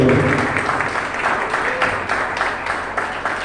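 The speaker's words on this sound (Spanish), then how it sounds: "Demos un fuerte aplauso por la palabra del Señor." A church congregation gives steady applause after a Spanish-language sermon, dense continuous clapping at moderate volume filling the whole stretch without a break.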